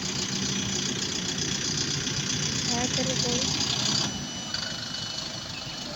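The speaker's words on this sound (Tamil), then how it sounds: "செவியூர் கிளம்புகிறது வண்டி." A vehicle engine idles with a steady mid-range rumble, then shifts in tone as it begins to pull away, with voices talking faintly over it.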